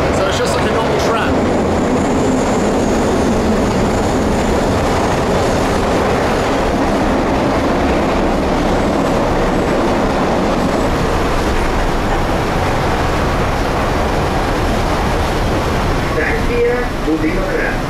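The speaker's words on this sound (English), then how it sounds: "The metro here in Kryvyi Rig is just a tramway that goes underground." An underground tramway serving as the metro in Kryvyi Rih rumbles loudly and steadily along its rails throughout, a continuous close roar of wheels and car body with faint squeals near the end.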